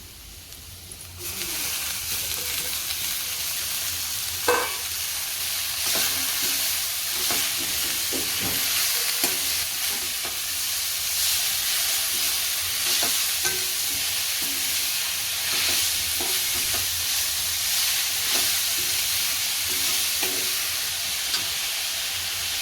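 Spinach frying in oil in a pan with coriander-cumin powder and garam masala, a loud continuous hiss and sizzle broken by irregular scraping clicks of a stirring spoon, with no talk.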